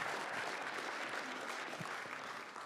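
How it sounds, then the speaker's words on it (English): A town hall audience in Exeter, New Hampshire applauds at the start of a presidential campaign event, a faint, steady crowd clapping heard from a distance, with no voices over it. "You can applaud."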